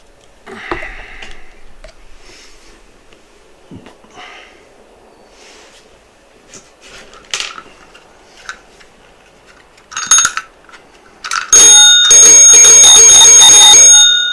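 A bicycle bell rings loudly and repeatedly near the end, a dense burst of bright metallic rings after a few scattered clicks and handling taps in an otherwise quiet room.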